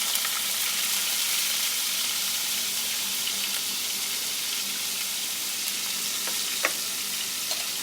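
Chopped onions fry in hot ghee for Lahori chickpeas, giving a dense, even sizzle up close. A couple of small clicks come through near the end, and no one speaks.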